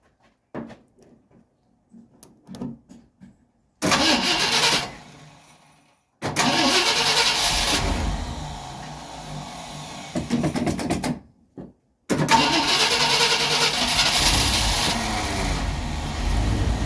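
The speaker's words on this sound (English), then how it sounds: "We're going to start it up now and check it again and see if it's safe to put in gear." A 1959 Ford Fairlane 500, not driven in 17 years, gives a few soft clicks and cranks, then its engine catches with a loud close roar. It cuts out twice and restarts each time, running strongly by the end.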